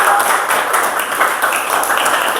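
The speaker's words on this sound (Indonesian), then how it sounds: "Kita berikan tepuk tangan yang meriah untuk kelompok 3." A classroom of students claps for a student group after its presentation in a university teaching-practice lesson, a steady dense patter of hands filling the room without pause.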